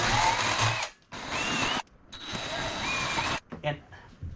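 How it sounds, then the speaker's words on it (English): A drill with a 1/4 inch bit bores into the composite deck lid of a 2020 Toyota Supra, three whining bursts separated by short pauses, close and loud, with a person talking. "I'm using a 1/4 inch drill bit."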